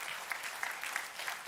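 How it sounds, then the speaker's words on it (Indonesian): A church congregation applauds during a live service, quiet and distant, with rhythmic clapping and regular accented beats across the short stretch. "Kita kasih tepuk tangannya boleh yang paling meriah buat Tuhan"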